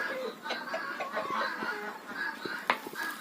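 A hen clucks in a village yard, several short nearby clucks and murmurs in a loose rhythm over faint background noise.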